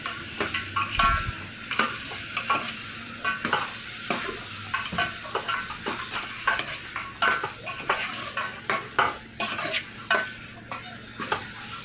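Marinated chicken and onions stirred in a sizzling pan for a chicken curry, with repeated scraping and clinking of a utensil against the pan in an irregular rhythm over steady frying.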